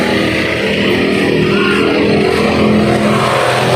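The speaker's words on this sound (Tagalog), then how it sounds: "grabe yung traffic na yan, ano?" Road traffic rumbles close by, a loud, continuous engine drone from passing vehicles that holds steady for a few seconds without pauses or speech.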